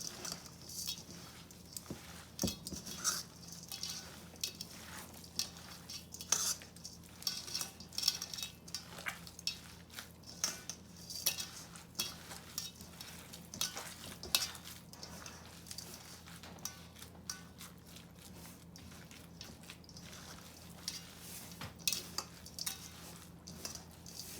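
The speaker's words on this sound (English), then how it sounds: "Then we're gonna mix it all up." A spoon scrapes and taps irregularly through stuffed cabbage filling with onions in a bowl, soft clinks and wet stirring noises coming in uneven bursts over a quiet background.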